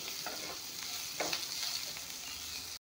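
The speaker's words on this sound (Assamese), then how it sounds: "এয়া চাওক এইখিনি অলপমান ভাজি ল'লোঁ" A low, even sizzle comes from a pinch of cumin and black pepper powder frying in a pan, with light stirring strokes and a short gap at the very end.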